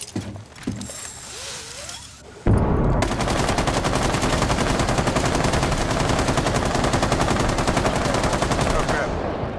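Light machine guns in the video game Rainbow Six Siege open up in a long, rapid, unbroken stream of shots that begins abruptly and stays loud and close, after a brief, quieter stretch of game sounds.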